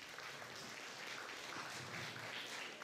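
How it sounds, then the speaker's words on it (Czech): An audience at a short-film award ceremony applauds, a steady, even wash of clapping heard faintly from a distance throughout. "Tak ještě jednou potlesk do Mikulova"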